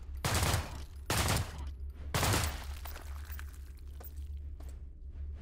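Gunfire in System Shock, with three loud, bright bursts about a second apart followed by a quieter stretch of low hum and faint scattered clicks.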